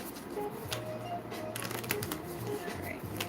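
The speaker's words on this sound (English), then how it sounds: "A couple more shuffles." Tarot cards being shuffled by hand, a soft continuous papery riffling and flutter that runs close and steady throughout, with a faint low hum underneath.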